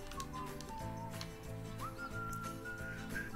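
A whistled melody carries the background music of the video game Summer in Mara, with long sliding tones over soft sustained instrumental accompaniment, steady and moderately quiet.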